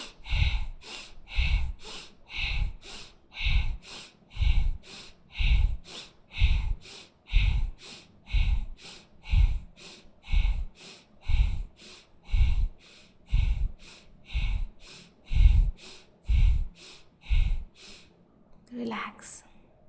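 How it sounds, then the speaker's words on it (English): Deep, loud rhythmic yoga breaths pulse steadily, about one forceful exhale per second across roughly eighteen strokes, close and prominent, ending with a short breath or sound at the finish. "focus on your throat, breathe deep and loud."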